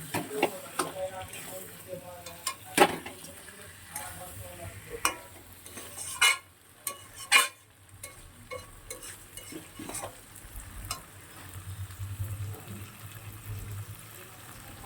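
Crab and potato curry being stir-fried in a pan, with a soft sizzle under repeated spatula scrapes and knocks against the pan at an irregular rhythm, close and moderately quiet.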